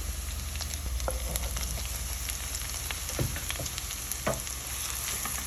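Chili pepper and garlic frying in hot oil in a pan, a steady dense sizzle with scattered pops and occasional stirring clicks, close and continuous, no talk.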